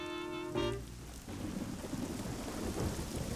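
Cartoon rainstorm with steady rain pattering on surfaces and a rumble of thunder rolling in early, continuing as a dense wash of rain throughout, with no talking.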